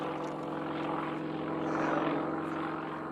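A Sukhoi aerobatic plane with a Russian radial engine flies overhead during an unlimited power aerobatics competition, its propeller and engine a steady, distant-sounding drone with a slight swell near the middle.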